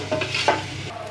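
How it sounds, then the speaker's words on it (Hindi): Chickpeas stirred into frying masala for junglee pulao: a quick scraping stir of spoon against pan over a low sizzle, short and close. "चने डाल के इनको अच्छी तरह से मिक्स करेंगे"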